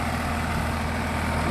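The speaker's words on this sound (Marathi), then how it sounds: "ट्रॅक्टर आपली सुरुवात केली आपण" A tractor engine runs steadily at a farm during turmeric polishing work, a loud, constant low rumble close by with no break or change in pitch.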